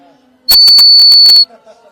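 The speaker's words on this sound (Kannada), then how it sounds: "ಈ ಪಕ್ಷಿಗೆ ನಾವು ನೀರ್ ಹಾಕದೆ ಊದಿದ್ರೆ ನಿಮ್ಗೆ ಸೇಮ್ ವಿಸಲ್ ಸೌಂಡ್ ಬರುತ್ತೆ" A bird-shaped toy whistle blown dry without water gives one loud, steady high-pitched tone lasting about a second, with clicking noises over it and quiet sounds around it.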